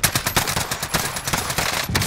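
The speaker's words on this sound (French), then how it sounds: "Je me prends les balles de l'ennemi." Rapid bursts of automatic gunfire in the Call of Duty Warzone video game, a dense, loud string of shots fired close by with no pauses, heard alone with no talk.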